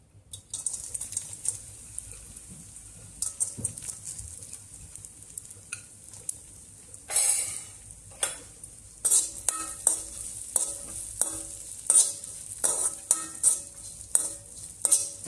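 Cashews, almonds and raisins roasting in ghee for dink laddu: a gentle sizzle broken by rapid clattering scrapes and taps of a spoon stirring in the pan, growing busier and louder in the second half.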